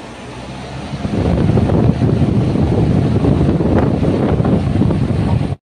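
A Maharaja Whiteline air cooler fan switches on and settles into a loud, steady whooshing roar of moving air, close to the microphone, then cuts off abruptly.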